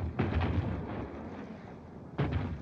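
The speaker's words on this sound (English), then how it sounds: "What's that shooting?" Distant military gunfire from army maneuvers, a film sound effect: two rumbling bursts of shots, one at the start and another near the end, heard alone without talk.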